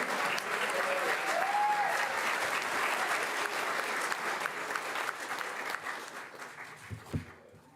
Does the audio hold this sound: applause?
yes